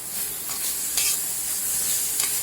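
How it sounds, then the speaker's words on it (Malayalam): Beetroot paste with chilli flakes sautéed in a pan, a steady close sizzle with soft scraping stir strokes throughout, no voices. "പിന്നെ നല്ലോണം വഴറ്റി കൊടുക്കണം."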